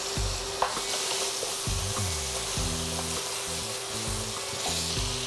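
Meat and vegetables stir-fry in a hot pan with a loud, steady sizzle, broken by occasional clicks and scrapes of a utensil close by and no voices.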